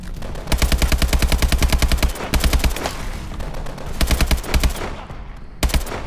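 Rapid automatic gunfire from Call of Duty: Advanced Warfare, loud, close bursts of machine-gun fire in several volleys with short pauses between them, no talking.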